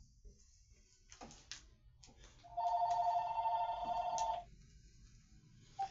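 A phone rings once in a strong, steady electronic tone lasting over a second, with faint rustling and handling noise before it and a short blip near the end.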